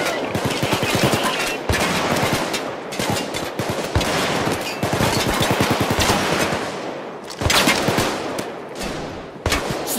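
Rapid bursts of sniper and automatic gunfire in Payday 2 during a train heist on Overkill difficulty, loud, close and dense, crackling almost nonstop with brief gaps between volleys.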